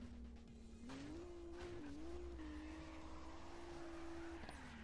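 A Nissan Skyline R33 drifts with a steady, sustained tire squeal and engine drone that shifts slightly in pitch as it slides, continuous and fairly distant for about five seconds.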